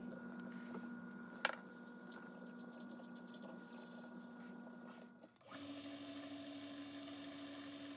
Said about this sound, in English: Now I'm going to tap that one